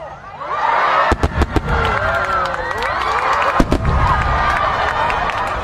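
Sharp firework bangs and firecracker pops crack out amid whistling rockets during New Year celebrations, with a crowd cheering and shouting in the background.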